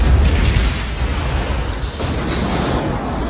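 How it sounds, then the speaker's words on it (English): A stock explosion effect from the Star Trek VI film booms out as a loud, deep blast that rumbles and decays over a few seconds, heard alone without talk. "Roll the explosion from Star Trek VI to save money."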